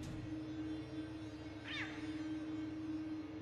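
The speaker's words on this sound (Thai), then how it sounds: "เสียงแมว" A cat meows once, briefly and mid-distance, in the horror video game The Coma 2: Vicious Sisters, a short call heard over a steady low ambient hum.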